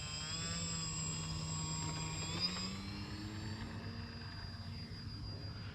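A radio-controlled L-19 Bird Dog scale model airplane flies overhead, its small engine giving a sustained whining drone that shifts pitch as it passes, moderately distant and steady, with no talk.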